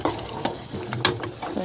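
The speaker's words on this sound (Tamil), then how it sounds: "அப்போ தக்காளி நல்லா வதங்கிடுச்சு" Tomatoes sauté in a pan for mushroom gravy, a soft sizzle broken by a few scraping strokes of a spoon stirring, quiet and close.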